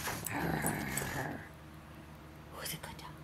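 A dog growls while tugging on a rope during play, a low rumbling growl for about a second and a half before fading, with soft whispered speech nearby.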